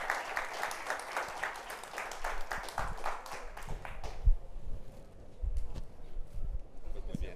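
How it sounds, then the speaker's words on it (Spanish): Audience applause at a research seminar, dense clapping that fills the first four seconds and then thins out into scattered claps and room noise, with people talking lightly over it. "Y los pedimos con un aplauso, ¿sí?"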